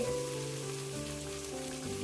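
Lentils tipped into spices frying in a pan give off a steady, even sizzle, like light rain, with faint tonal sounds in the background.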